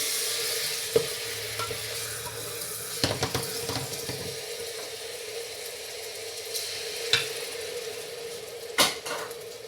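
Tomatoes sauté in a pan for chana dal, with a soft, continuous sizzle and occasional sharp spoon clacks and scrapes against the pan.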